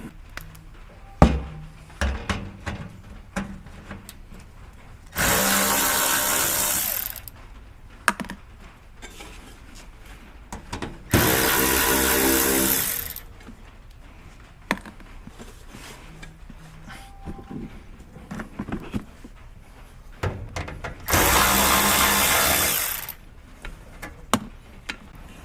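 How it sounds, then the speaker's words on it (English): Power tool whirring in three bursts of about two seconds each as it removes skid plate bolts on a 2013 Toyota Tundra 5.7L, with clanks and clicks of handling between the runs. "You have to remove those three bolts."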